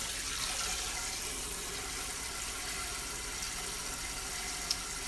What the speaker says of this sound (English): now I'm filling it up with soapy water so that it will soak and be super clean